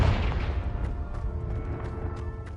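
A Confringo fire spell explosion in the video game Hogwarts Legacy, a single booming blast at the start that decays into a fading rumble, fairly quiet, with faint crackling after.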